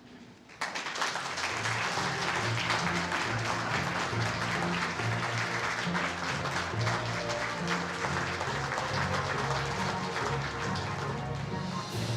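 An audience at a park service awards ceremony applauds warmly to welcome award recipient Ken Quincy, steady sustained clapping from a large crowd that starts abruptly and holds.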